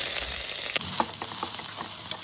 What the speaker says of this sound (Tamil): மெலிசா நறுக்கிற வெங்காயத்தை போட்டுங்கோ.